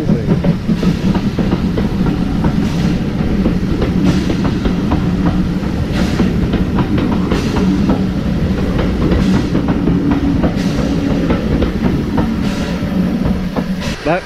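A heritage train on the Kent & East Sussex Railway rumbling past close by, with a steady clickety-clack of wheels over rail joints and a continuous hiss lasting the whole stretch.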